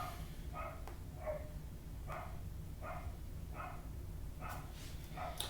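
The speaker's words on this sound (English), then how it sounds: "Also, the dogs are up." Several dogs bark at a distance in a steady, evenly spaced series of about seven short calls over a constant low background hum, with no talk.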